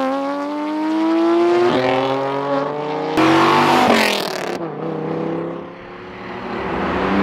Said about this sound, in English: This car is so incredibly loud.